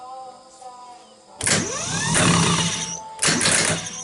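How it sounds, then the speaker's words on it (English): A 1953 Chevy engine cranks on its starter in bursts, a loud whirring grind that starts, runs for about a second and a half, stops, then starts again, close by. "it looks like our starter is working, right?"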